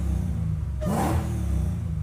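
Supercharged Hellcat HEMI V8 swapped into a Nissan 350Z, idling with a deep steady rumble that swells into a brief rev around the middle before settling back to idle, close by.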